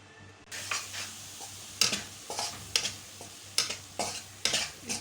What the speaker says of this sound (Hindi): मैदा ऐड करेंगे 1 कप।